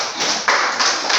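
Students in a math class demonstration give a short round of applause, a brief, dense patter of clapping hands heard close by with no speech over it.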